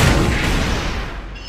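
Cannon shell fired in the anime Fullmetal Alchemist: Brotherhood, a loud broadband boom that rolls on as a sustained rumbling roar, alone without voices.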